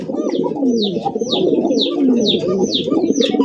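Male Lahori pigeons coo steadily in low, throaty rolling calls, with sharp, repeated high chirps from other birds sounding over them throughout.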